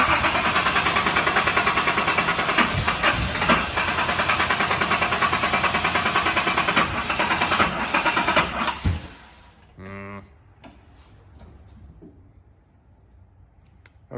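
The motor of a 1981 Datsun 280ZX runs loud and rough for several seconds, then cuts out, followed by a brief cranking burst and quieter sounds as people talk.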